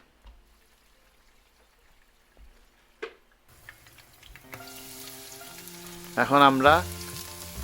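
Bay leaf, cinnamon and cardamom hit hot cooking oil in a wok, a steady sizzle building from quiet after a soft clunk, with brief talking partway through.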